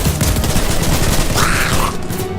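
Gunfire in a video game battle: a loud, dense fusillade of rapid shots with booming impacts, continuous and close throughout.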